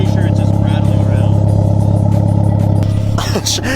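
Idling Honda Civic EG hatchback exhaust with a loose wire screen inside, a steady loud low rumble with metallic clattering, and a brief rev or tonal sweep near the end.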